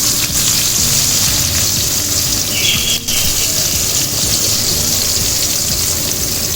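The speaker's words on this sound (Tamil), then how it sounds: "இந்த வெங்காயத்தையும் நம்ம பொரிச்சு அள்ளிடுவோம்." Cut onions frying in oil for fried vegetable rice make a steady, close, bright sizzle with a faint crackle throughout, and a brief sharp clink near the middle.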